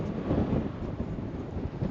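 Wind blows hard across the microphone at the trailhead parking lot for Cascade Falls, a steady low buffeting roar that fills the whole stretch with no talking.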